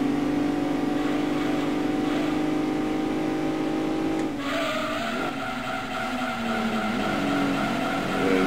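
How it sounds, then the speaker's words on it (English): A race car in Gran Turismo 2 drives with a loud, steady engine drone that shifts partway through, joined by squealing, skidding tires. "This car handles really well."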